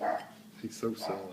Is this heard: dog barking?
yes